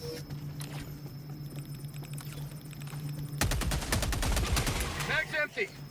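Assault rifle gunfire in the video game Helldivers 2 starts as faint scattered shots, then turns into a loud, rapid automatic burst of close shots lasting a couple of seconds, with voices talking over it.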